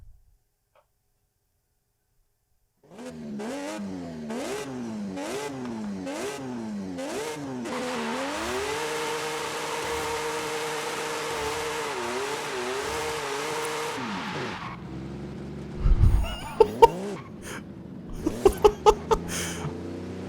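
A Formula Drift car in Forza Horizon 5 revs loudly in a series of rising and falling bursts, then holds a sustained high-revving roar with hissing tire noise, ending in a drop and a few sharp clicks, with no talk.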